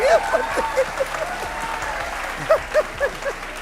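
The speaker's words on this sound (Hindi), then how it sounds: "जोरदार ताली है।" A studio audience at a televised talk show applauds loudly, a dense wash of clapping with whoops and cheers rising in bursts over the steady patter.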